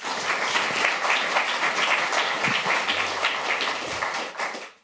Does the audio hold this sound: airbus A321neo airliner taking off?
no